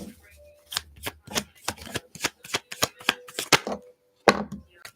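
A tarot deck being shuffled by hand, heard up close as a rapid series of crisp, papery riffle and slap bursts in an uneven rhythm, with a few brief pauses between passes.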